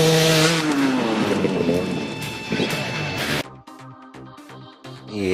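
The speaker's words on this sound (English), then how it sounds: "getting the back tire into full traction mode and accelerating out" Enduro motorcycle accelerating hard out of a berm, the engine climbing to a loud, high-revving whine before dropping off into choppy bursts of revving as the rear tire grips.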